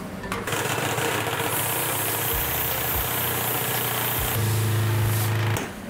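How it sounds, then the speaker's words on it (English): Vibration plate shaking carbon down into a filter canister at a carbon filling station, producing a continuous buzzing hum with a steady mechanical drone that shifts pitch briefly near the end before cutting off. "The vibration plate allows the carbon to settle."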